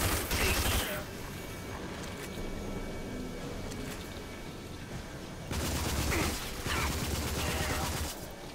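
Bursts of gunfire from a weapon in the shooter RAGE, a dense rattling fusillade at the start and again in a long stretch later, with mechanical clatter and game ambience between the volleys.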